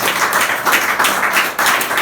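A congregation at a church service breaks into applause, with dense, rhythmic clapping from many hands close by, steady for the whole stretch with brief dips.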